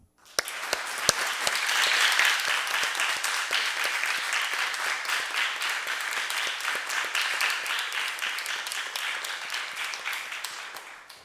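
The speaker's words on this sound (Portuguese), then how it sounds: "Peço a todos uma calorosa salva de palmas." Warm applause fills a municipal council chamber during a youth council session, dense steady clapping from a gathered audience that swells early and holds strong for about eleven seconds before tapering off.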